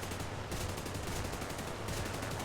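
Russian-made guns fire in dense, continuous bursts from a Hurricane Mk2 fighter in War Thunder, loud and close, one long burst, a brief pause, then another.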